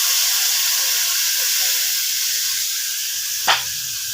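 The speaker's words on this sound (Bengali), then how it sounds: "এখন অল্প করে ঝোলটাকে দিয়ে দেবো।" Gravy goes into a pan of spice-fried boal fish. A continuous close sizzle and steam hiss runs throughout, broken near the end by one sharp, bright burst as the liquid hits the hot pan.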